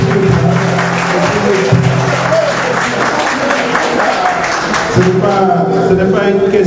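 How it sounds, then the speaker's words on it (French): Audience applause at an Ivorian community presidential election debate in New York, steady crowd clapping with voices talking over it in stretches. "Bon, vous voyez que je peux permettre les applaudissements."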